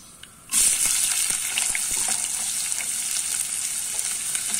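Onions dropped into hot oil for a coconut-milk snake gourd curry: a sudden loud hiss bursts in after a brief quiet moment, then a bright, steady sizzle crackles on with light clicks.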